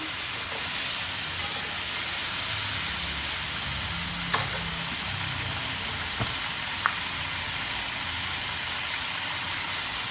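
Vegetables for a light summer sabzi sautéed briefly in a pan: a soft, even sizzle continues throughout, with a few faint clinks of a utensil and no voices.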